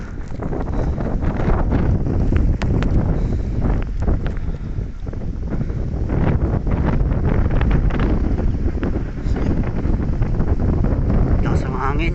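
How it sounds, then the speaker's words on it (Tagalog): Strong wind roars and buffets the microphone continuously, a loud rumbling gust-filled rush with faint voices buried underneath. "Lakas ng hangin."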